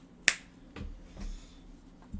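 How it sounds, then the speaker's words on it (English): A single sharp finger snap rings out close and crisp near the start, followed by quieter room noise and a few soft incidental knocks. "Yeah, snap your fingers."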